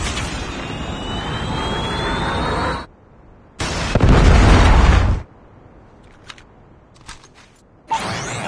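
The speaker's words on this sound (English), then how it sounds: "Predator missile inbound." A predator missile strike in the mobile shooter Call of Duty Mobile: a loud, sustained roaring blast, a brief silence, then a second heavy booming burst with deep rumble, followed by a few faint clicks and a sharp final hit.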